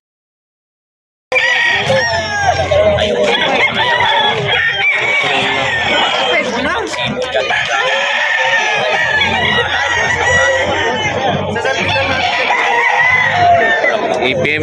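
Roosters and chickens at the Bocaue pet market in the Philippines crow and cluck continuously, many birds loud and close after a brief silence at the start, with crowd chatter and voices mixed in.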